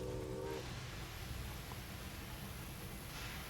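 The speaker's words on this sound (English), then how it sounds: "All the trains are waiting below and we just cross it" A train in Railway Empire 2 crossing a flyover gives a steady, low rumbling rail noise throughout, with a brief horn-like tone at the start.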